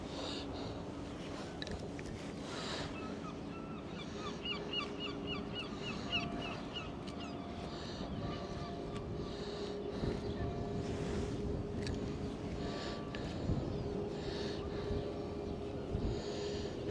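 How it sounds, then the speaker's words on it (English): Harbour ambience at Brixham, Devon, where fishing boats land their catch: a continuous wash of water and boat engines with gusting wind on the microphone, steady and moderately loud with no talk. "There's a harbour area."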